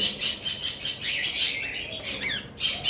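Cockatiels at a bird farm, albino birds among them, give repeated harsh squawking calls in quick pulses with a few rising chirps, close and fairly loud, with no voices over them.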